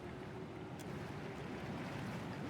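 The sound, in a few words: rushing, cascading water flooding an arena in Pillars of Eternity 2 video game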